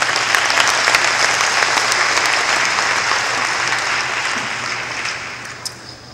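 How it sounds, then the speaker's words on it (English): A crowd in a church applauds, a dense steady wash of clapping that holds evenly and tapers slightly toward the end. "Let's give another round of applause to Hepin and KCCD."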